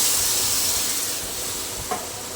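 Hot pan sizzling steadily as lentil dal goes in for a simple home-style dal with a little egg, a soft broad hiss throughout with a brief stir-like knock near the end, no talking.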